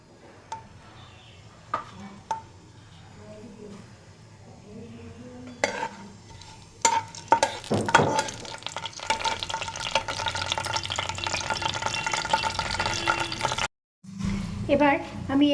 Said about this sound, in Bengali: তেলটা আমার গরম হয়ে গেছে, আমি এবার ফোড়নটা দিয়ে দিলাম গোটা গরম মশলার।